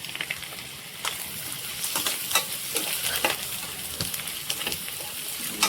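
Fried eggs being stirred into masala in a pan for egg masala rice: a constant bright sizzle with repeated scraping and clinking strokes from a spoon, close and fairly steady.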